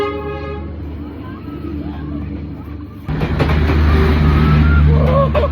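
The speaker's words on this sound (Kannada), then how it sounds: "ಈಗ ಜಸ್ಟ್ ಟ್ರೈನ್ ಬಂದು ಹೋಯ್ತು" A train in Vietnam sounds a tonal horn, then rolls past close by with a sudden loud, heavy rumble and clatter that fills the rest of the moment. A voice speaks faintly in the background.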